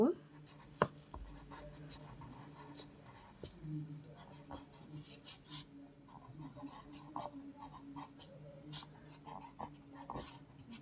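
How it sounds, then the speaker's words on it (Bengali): Handwriting on paper during a second-grade Bangla lesson, a steady faint scratching with scattered pen taps, heard alone without talk. "আমরা এখানে লিখব"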